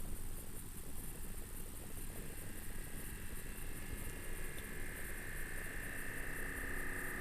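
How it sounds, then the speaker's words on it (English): A ZeitGeist delay module with feedback raised repeats its own circuit noise at a very fast rate, forming a dense, steady hiss and rumble with a thin tone gradually emerging toward the end, quiet and without talk. "What you're hearing is the noise of the circuit being repeated at a very fast rate."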